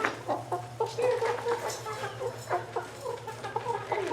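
Backyard chickens clucking in a coop during cleaning, several overlapping short clucks and squawks close by over a low steady hum, no talking.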